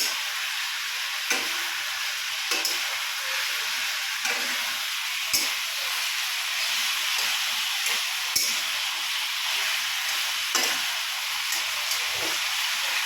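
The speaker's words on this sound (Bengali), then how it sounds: "আস্তে আস্তে খন্তি ঘোরাতে হয় এবং খচখচ করে খন্তি নাড়তে হয়" A spatula stirs chicken and potatoes in a hot pan under a continuous hissing sizzle, with short scraping strokes against the metal recurring every second or two, close and steady, with no voices.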